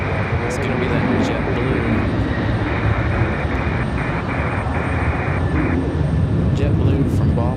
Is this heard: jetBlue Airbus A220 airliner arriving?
yes